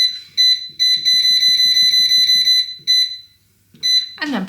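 An air fryer reheating Camembert gives a rapid series of loud, high electronic beeps in close bursts with short gaps, followed by a clattering rustle at the end.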